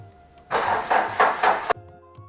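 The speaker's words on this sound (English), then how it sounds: "So now let's crank the engine and see like whether car is able to start" A car engine with a weak battery cranks in four slow, labored pulses for about a second and fails to start, then cuts off abruptly, recorded close in a quiet setting.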